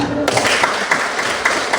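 A class of students claps together in a classroom, a brief burst of steady, fairly loud clapping heard up close without any talking.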